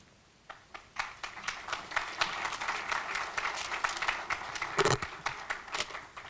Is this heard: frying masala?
no